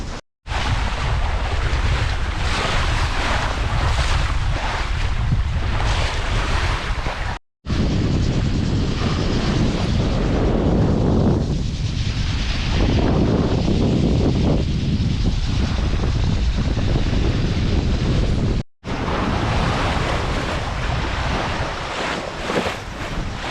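Strong wind buffets the microphone while waves wash and surge steadily around a sailing boat at sea, loud and continuous with brief dropouts.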